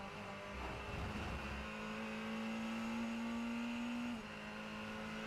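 A race car engine in the iRacing sim holds a steady high rev, with a brief lower rumble at the start; it runs loud and continuous for several seconds before the pitch drops slightly near the end.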